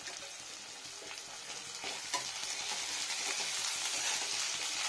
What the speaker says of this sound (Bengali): রসুনটা একটু ফ্রাই হোক, স্মেলটা সুন্দর বার হবে রসুনের